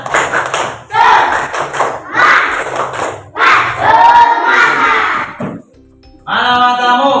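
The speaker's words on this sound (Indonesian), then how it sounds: "Satu kali tepuk semangat." Grade 5 classroom pupils doing a spirit clap together, rhythmic bursts of claps and shouted chanting in several loud groups with brief gaps between them, close and lively.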